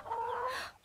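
A single hen gives a short, close, drawn-out cluck lasting under a second, heard alone.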